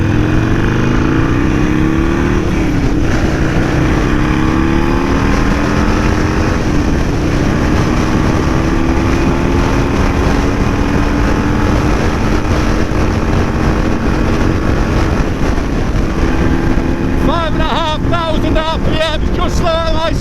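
Strong autumn wind roars and buffets the microphone in a constant loud rush, with a few faint chirping sounds near the end.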